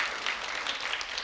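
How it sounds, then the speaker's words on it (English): An audience at a medical conference evening gives steady, dense applause to welcome performers, a brief burst of many hands clapping together. "let's cheer them and welcome them with a big round of applause"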